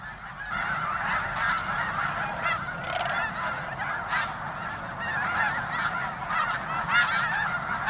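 A large flock of snow geese honks continuously at the Bosque del Apache refuge, a dense, overlapping chorus of calls at moderate distance that never lets up.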